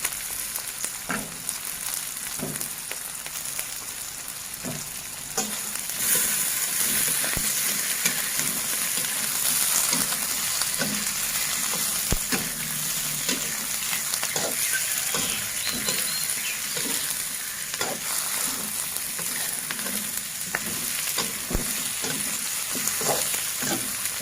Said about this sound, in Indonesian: Setelah layu, kita masukkan cucutnya atau ikan asap ya guys.